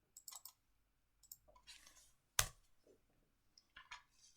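A computer mouse clicks on a tick box in a Power BI dashboard, one sharp close click standing out among faint soft taps and small desk noises in a quiet room.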